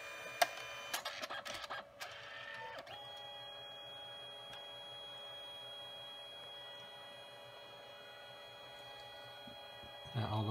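A Canon CP1200 photo printer whirs and hums steadily after a few clicks and clunks, then its motor sound cuts off near the end with a rumble.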